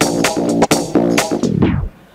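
A DJ plays a track live through a sound system: punchy electronic beats with heavy bass hits and sweeping synth stabs, then a descending filter sweep as the music drops away into near silence.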